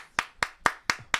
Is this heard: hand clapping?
yes